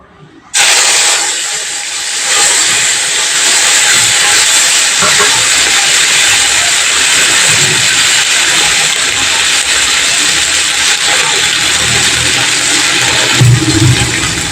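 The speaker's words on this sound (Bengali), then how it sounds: "এবার এই ধনেপাতাটা আমি তেলের মধ্যে দিয়ে একটু ভালো করে সাঁতলে নেব।" Coriander leaf paste hits hot oil in a pan and sets off a loud, sudden sizzle that becomes a steady, intense hiss for the rest of the time, with no talking.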